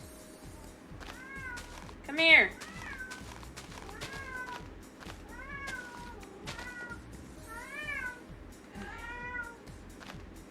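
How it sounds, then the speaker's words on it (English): A pet cat meows repeatedly at close range, a series of clear, rising-and-falling cries with one louder, sharper yowl early on, while a person speaks intermittently over a low background. "I hear my cat."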